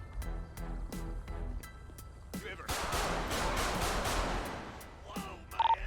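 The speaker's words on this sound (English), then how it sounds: "Dispatch, shots fired." GTA V police-patrol gunfire in Blaine County begins as a string of distinct sharp shots. It swells into a dense, sustained barrage, then fades, with speech-like game voices nearby.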